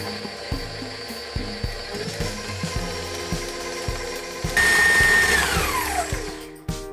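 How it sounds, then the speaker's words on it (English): An electric hand mixer beats gluten-free bread mix batter, starting slow with a steady motor whine and rhythmic thumping, then jumping louder and higher in pitch as it speeds up for hard beating before stopping. "now I'm going to start by slowly mixing it, and then we're gonna really beat it for a good 2 minutes."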